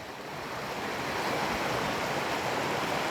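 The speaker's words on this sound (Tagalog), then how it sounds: "para mapakinggan yung aligas-gas ng tubig ng ano, ng Tapwakan" Rushing water at the Tapuakan swimming spot in Pugo, a steady, dense roar of flowing river water close by with no voices, unbroken throughout.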